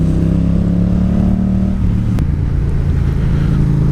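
A Yamaha XSR700 motorcycle with an unbaffled Akrapovic dual exhaust gives a loud, steady, deep engine rumble that holds throughout, with a small shift in tone partway through and no speech.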